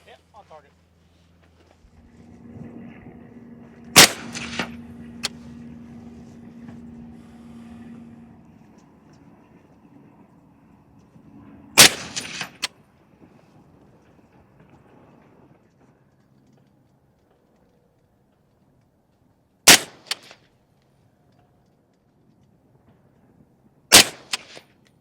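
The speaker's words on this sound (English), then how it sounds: "I'm going to shoot the top left, Marco." Springfield Armory Saint Victor AR-10 rifle in .308 firing at a target, four sharp, loud single shots spaced several seconds apart, with a low hum and quiet background between them.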